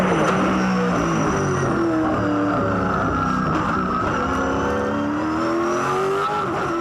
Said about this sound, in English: Listen how gentle Mark is on the throttle in first gear, and then a nice easy shift to second to try and discourage wheel spin